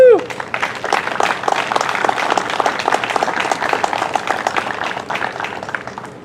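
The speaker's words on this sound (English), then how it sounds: "Let's give him another round of applause." Applause and cheering for the mayor at a veterans mural dedication, crisp individual claps from a modest crowd close by, with a brief whoop at the start and voices mixed in.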